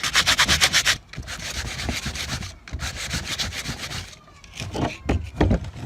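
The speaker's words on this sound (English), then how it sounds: "So I'm gonna keep sanding down until I can get it as smooth as possible" Rhythmic strokes of sandpaper rubbing on wood, loud and close, in quick bursts separated by short pauses.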